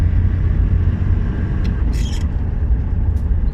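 A manual car's engine drones in fourth gear with a steady low rumble from inside the cabin, alone apart from a few faint clicks and rustles.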